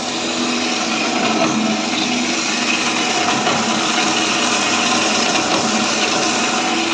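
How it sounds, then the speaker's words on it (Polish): A Cormak Metcor BS260G band saw with a chipped blade tooth runs steadily and loudly throughout, a continuous mechanical whine with a rough, rattling edge and no breaks. "może być trochę słychać hałas brzeszczotu, bo po prostu ząb mi się wykruszył"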